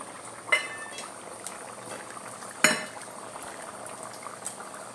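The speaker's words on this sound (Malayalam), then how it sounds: "നമുക്ക് ചുവന്നുള്ളി അരിഞ്ഞു വെച്ചേക്കുന്നത് ചീഞ്ചട്ടിലേക്ക് ഇടാം." Chopped shallots fry in hot coconut oil in a pan for a breadfruit curry, giving a soft, steady sizzle and bubble. Two sharper clinks of a utensil against the pan stand out, and no one speaks.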